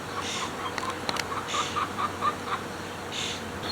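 A chicken gives a few soft, short clucks close by over a low steady background hum, with faint insect buzzing mixed in.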